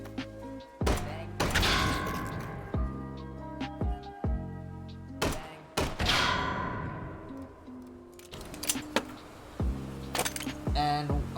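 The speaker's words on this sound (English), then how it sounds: "I shot a video game tomato." Rapid sharp virtual gunshots in a VR video game fire at a tomato at a salad bar, a series of loud cracks with ringing tails, some in quick bursts and others spaced apart.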